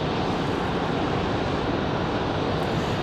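An American airliner on its takeoff run at Raleigh-Durham airport, a broad steady jet-engine roar heard from a distance, continuous and even throughout with no voices.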